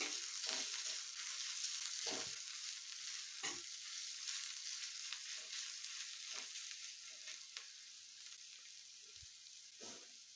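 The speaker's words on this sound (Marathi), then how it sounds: "आलंही घालते आता हेही थोडंसं तेलामध्ये परतून घ्यायचं" Ginger and garlic frying in oil in a pan for a yellow potato dish, a steady close hiss of sizzling with occasional soft stirring scrapes and pops, fading slightly toward the end.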